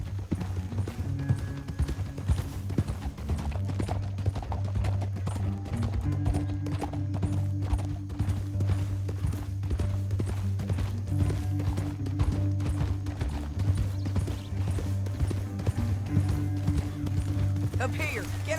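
Horses gallop with rapid, steady clip-clopping hooves throughout a Red Dead Redemption 2 scene, the hoofbeats close and continuous under a music score, with an occasional faint whinny.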